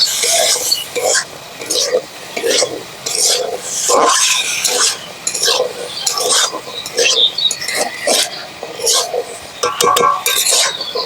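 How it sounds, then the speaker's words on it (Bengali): Ghugni ingredients with potatoes being stirred and mixed in a pan, steady raspy scraping and clinking of a spoon against metal in repeated strokes, close and fairly loud. "তার সঙ্গে আমি সবগুলো মিক্স করে নিই"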